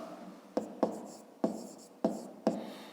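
Pen or chalk strokes writing out a fifth-grade maths solution, five or six sharp scratchy taps spaced unevenly over a few seconds, close and fairly quiet, with no speech.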